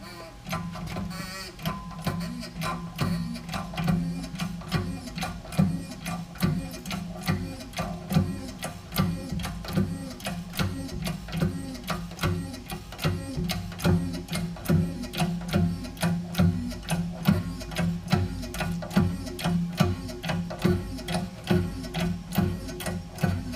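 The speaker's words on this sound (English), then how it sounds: "This is a Dumont quality broach, but hopefully I'm not setting myself up for failure." A press ram pushes a Dumont broach through steel stock, giving a long run of rhythmic, evenly spaced mechanical clicks over a steady low hum, close and sustained.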